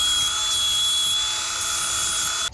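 A power tool cleans up the edges of freshly cut angle iron, a steady, loud high-pitched whine that runs unbroken before ending with a brief clatter.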